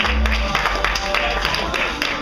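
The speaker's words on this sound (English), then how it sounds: "Round of applause for Kris Charlie!" A studio or theatre audience at an improv comedy show applauds, a short burst of steady clapping that fills the space and tapers off within a couple of seconds.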